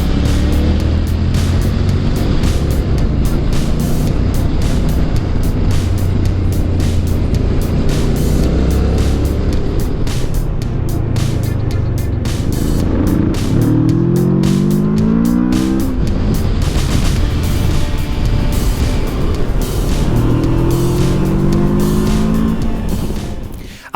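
A Honda NC 750X DCT motorcycle ridden downhill, its engine droning loudly and continuously under strong wind rush, with rising and falling pitch sweeps as the automatic gearbox downshifts during braking.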